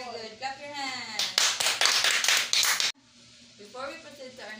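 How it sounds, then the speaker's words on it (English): A burst of loud, rapid hand clapping from a class of pupils lasts a couple of seconds, with a teacher's voice speaking before and after. "Clap your hands."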